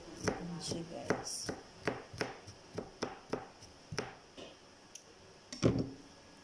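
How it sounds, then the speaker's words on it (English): Garlic chopped with a knife on a board, a run of about a dozen crisp, evenly spaced taps of moderate loudness with a heavier knock near the end. "Is-chop kong bawang."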